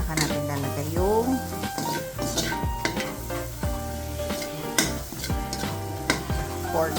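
Garlic and onion sauté in a hot pan for pork paksiw, with sizzling and repeated scraping stirs over a sustained musical backing, close and busy with clatter of the utensil.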